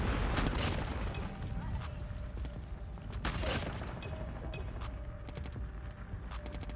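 A BY15 shotgun fires in Call of Duty Mobile, a few sharp, fairly quiet blasts spaced out over continuous battlefield noise.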